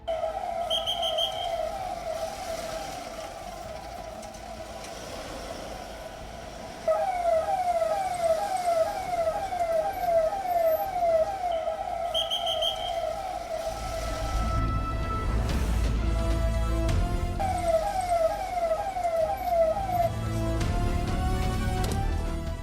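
An ambulance siren on a road near a temple festival, a loud wailing tone cycling continuously and close by, joined partway through by a second siren pattern and rumbling traffic.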